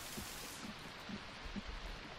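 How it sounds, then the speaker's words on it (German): Steady rain in the survival game The Forest, a soft continuous hiss of falling drops with faint low thumps, heard alone. "Es regnet gerade eh, das ist ganz gut."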